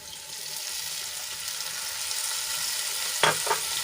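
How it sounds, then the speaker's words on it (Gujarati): Masala paste sautés in hot oil with ginger in a pan for Mumbai-style chana chaat, giving a continuous close hiss and sizzle, with a couple of brief scraping stirs near the end and no voices. "હવે આ મસાલામાંથી તેલ નાખ્યું તો પડે ત્યાં સુધી આપણે એને સાંતળી લઈશું"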